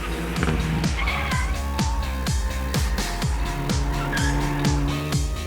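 Hyundai i30N hot hatch lapping a race track at speed, engine note rising and falling through gear changes with tyre squeal in corners, loud and close, no voices.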